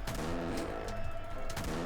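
Rapid gunfire in a horror video game, dense overlapping shots and booms running continuously through the clip at steady loudness.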